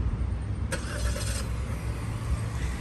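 A 2022 Chevrolet Equinox Premier engine fires up by remote start with a brief crank burst, then settles into a steady low idle that continues alone without talk.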